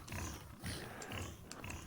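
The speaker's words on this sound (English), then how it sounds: "now I can't even soften these stupid pigs up." Pigs in the video game Minecraft, soft repeated grunting oinks in quick succession over about two seconds, faint but clear.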